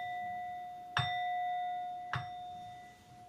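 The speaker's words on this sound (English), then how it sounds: "Here comes the gong." Meditation gong struck twice about a second apart, each hit ringing out in a clear, sustained metallic tone with steady overtones at a soft, moderate level, no voices over it.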